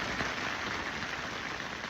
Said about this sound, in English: Some sleet and rain